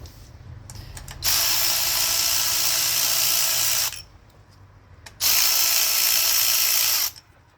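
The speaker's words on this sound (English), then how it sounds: "so I'm gonna remove all the bolts" A power ratchet spins out bolts during a Nissan timing chain replacement, two loud sustained whirring bursts of about three and two seconds close by, separated by a quiet pause.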